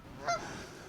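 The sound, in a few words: geese honking on a mountain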